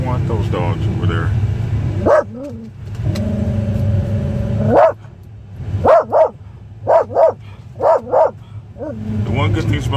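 Several sharp dog barks come in quick bursts, some doubled, over a steady engine rumble, with a voice talking at the start and end.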